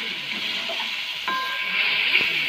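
Steady sizzle of fish sautéing in a pan with ginger, garlic and green chili paste, an even hiss throughout with a few soft stirring scrapes.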